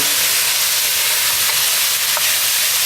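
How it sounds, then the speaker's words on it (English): Loud, steady sizzling of chicken thighs frying in a hot pan, a continuous crackling hiss up close. "the chicken, you can see, is colouring almost immediately"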